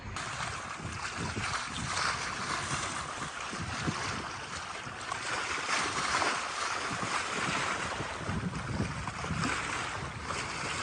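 Wind gusts at 12 to 13 knots buffet a sailboat at anchor on the Chesapeake Bay, a continuous loud rushing roar with microphone buffeting and faint water slap, no voices.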